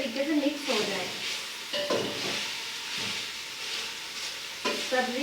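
Vegetables stir-fry in hot oil for a Chinese dish, a close, steady sizzle broken by periodic scraping bursts as they are tossed and stirred in the pan.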